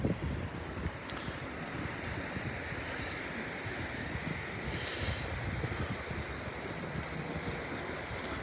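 Ocean surf on the Northern California coast by the San Andreas fault washes in as a continuous roar, mixed with wind buffeting the microphone and no talking.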